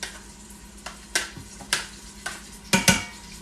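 Diced onion goes into a pot on the stove: a series of sharp clanks and scrapes of a utensil against the pot, roughly six hits spaced about half a second apart, nearby and without talk.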